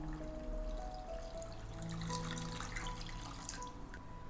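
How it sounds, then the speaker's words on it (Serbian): Water pours steadily into a pot of blended carrot and apple, a soft continuous splash and trickle at low level with a faint electrical hum beneath. "Dodat ću litar vode."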